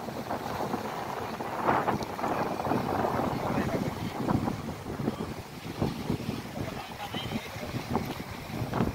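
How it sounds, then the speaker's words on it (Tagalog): Sea waves and a brisk wind at a beach make a constant broad wash of surf and wind rumble, heard close, while someone talks over it. "Nakaka-relax ang sounds ng alon at ang ganda ng view."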